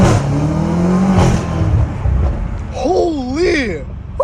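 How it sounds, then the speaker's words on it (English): A BMW M5 Competition fitted with new downpipes accelerates hard, its engine and turbos giving a rising and falling whir up close. Excited speech overlaps the sound throughout. "I can hear the turbos like it's freaking next to me."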